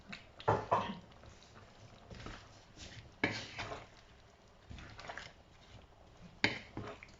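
Quiet scraping and clinking of a utensil stirring green curry with chicken and eggplant in a pot, several irregular strokes with short pauses between them.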